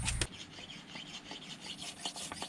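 Rough back-and-forth rasping of a handsaw cutting through driftwood, steady and close, with no talking.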